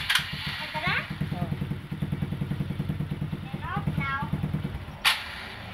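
Motorcycle engine idling with a steady, close, throbbing putter while children's voices chatter over it and a sharp noise cuts in near the end.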